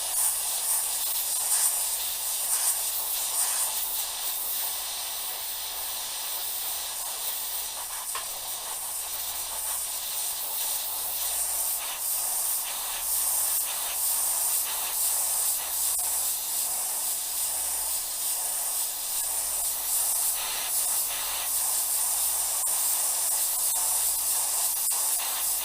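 An airbrush spraying paint while painting a model of the Antonov An-225 Mriya, heard as a steady, close, unbroken hiss that runs throughout with no talk.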